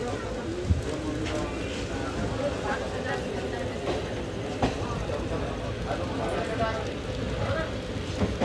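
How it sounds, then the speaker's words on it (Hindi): Steady rain patters on a hard surface at a railway washing line in Bathinda, India, with a constant hiss, scattered drips and faint background noise. "यहाँ पर देख सकते हो बारिश हो रही है"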